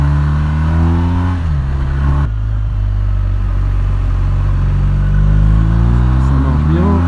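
BMW R 1250 RT touring motorcycle accelerating hard on the throttle along a forest road, its engine note climbing in rising harmonics, with a brief dip at a gear change before it pulls again, loud and close throughout.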